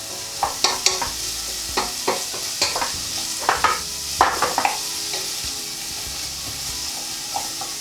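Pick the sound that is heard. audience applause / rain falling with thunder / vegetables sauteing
vegetables sauteing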